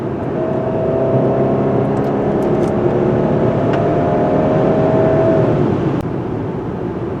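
A 2025 Subaru Outback accelerates hard, its engine and road roar building in a loud, continuous drone heard from inside the cabin, with a rising tone that levels off before easing.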